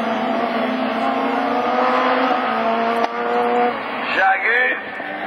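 Super 1600 rallycross cars, including a Renault Clio and an Audi, racing at Lessay, with a loud engine drone that drops away and gives way to another car revving.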